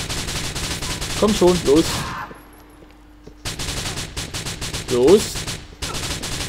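Gunfire in Grand Theft Auto IV bursts loudly in rapid runs around a short quiet gap, with someone talking excitedly over much of it.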